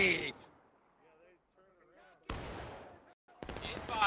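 Musket gunfire in the War of Rights video game, with dense crackling volleys bursting in twice after a quieter stretch, loud and close, while people talk over the battle.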